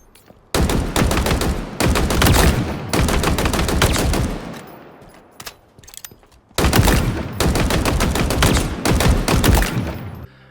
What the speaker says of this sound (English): The commando, which was sort of like it was a fully automatic gun, a rifle, that had a scope on it.